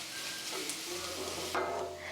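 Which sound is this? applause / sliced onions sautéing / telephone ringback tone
sliced onions sautéing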